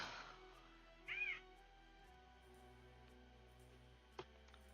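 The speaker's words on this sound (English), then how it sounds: "cat." A house cat gives a single short meow in a quiet indoor room, faint and close, with a brief knock afterward and no talking.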